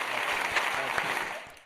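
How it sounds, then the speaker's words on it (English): Canned hand claps fired from a soundboard during a casual podcast chat give a short, dense burst of applause that fades out near the end, with no voices over it. "I'm so awkward with the hand claps."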